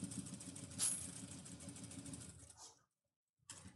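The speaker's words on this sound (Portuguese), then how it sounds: "vou passar agora uma costura por toda essa borda" Sewing machine stitching slowly along the edge of a fabric oral-hygiene kit, a soft steady whirring hum that runs for a few seconds, cuts out briefly, then restarts faintly.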